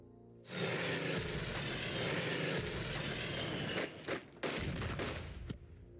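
Aircraft bombing run in the wartime strategy game Unity of Command 2, set at Stalingrad: a loud, steady roar of engines mixed with rattling fire for several seconds, breaking into separate bursts and thuds near the end.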